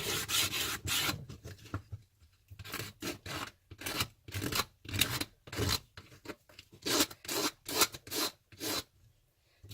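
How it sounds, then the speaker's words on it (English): Rasping strokes of sandpaper worked by hand along the edges of a wooden suet bird feeder, a steady series of close, repeated rubbing passes with short pauses between them. "to sand it smooth. So I'm just going to take this and I'm just going to go lightly over the edges."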